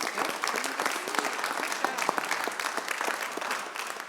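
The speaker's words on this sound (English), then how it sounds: "So a round of applause for our district officials," A modest audience at a school district annual electors meeting applauds district officials, with a brief spell of scattered, fairly quiet clapping from a small group.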